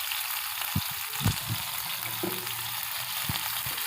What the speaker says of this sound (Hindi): 1 बाय 1 करके तमाम कबाब को अच्छी तरह से फ्राई कर लें।